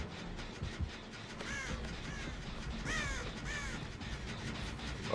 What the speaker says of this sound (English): I wish these crows would move.